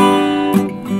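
Acoustic guitar playing a passage from a song, a sustained ringing chord with a fresh pick attack about halfway through, close and clear with no voice.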